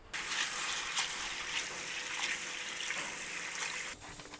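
Chana dal being washed with water in a home kitchen, a steady rushing, splashing water stream heard close throughout, with a slight shift near the end.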